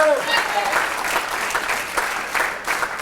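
A live audience at a Tule Elk celebration event claps steadily in dense, even applause that fills the space, with a brief voice heard at the very start.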